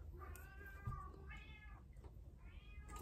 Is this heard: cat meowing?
yes